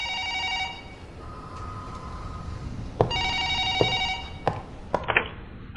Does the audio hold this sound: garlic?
no